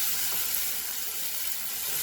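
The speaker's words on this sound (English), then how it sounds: "when we are frying it will be using out that juice" Bitter gourd frying in tamarind juice in a pan, giving a steady, even hiss of sizzling that holds at a constant moderate level from start to finish with no voices.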